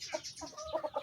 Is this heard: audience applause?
no